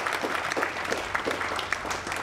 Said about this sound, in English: I would like to ask for another round of applause for these amazing guys.